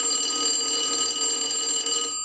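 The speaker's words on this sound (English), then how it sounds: "we'll ring the telephone" Ringing from an analyzer sets off the bell of an Automatic Electric payphone, producing a loud, close, continuous metallic ring with steady tone, heard alone without speech.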